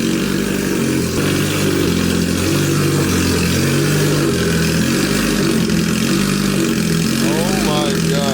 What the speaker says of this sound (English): Once it gets rid of that cold engine thing on there, I'll start it. I'll rev it.